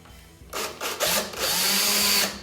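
A power drill with a 1/2-inch bit whirs in short bursts into a plastic gas can, then runs steadily for about a second, loud and close, before stopping.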